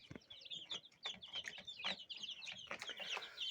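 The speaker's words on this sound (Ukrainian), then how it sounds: "Наші нові курчатка, які вилупились." A crowd of newly hatched chicks peeps constantly, their high, thin cheeps overlapping close by with no pauses.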